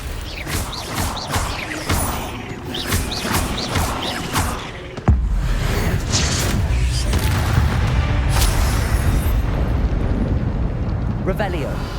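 A Confringo spell explosion in Hogwarts Legacy: several sharp combat hits and crackles, then a heavy booming blast about five seconds in that rumbles on loudly, with voices speaking over the battle.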